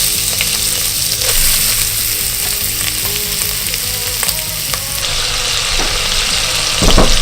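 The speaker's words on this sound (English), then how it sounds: "While our fat is frying" Chunks of duck fat fry in a pan without oil or butter, giving a loud, close, continuous sizzle and crackle with occasional stirring scrapes and no speech.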